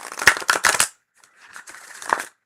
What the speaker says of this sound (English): Ooh, that was a good shuffle.